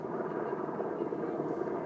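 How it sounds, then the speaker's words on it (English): A military helicopter passes overhead, making a steady, droning rotor and engine rumble that holds at an even loudness from a moderate distance with no talking. "Oh, military helicopter."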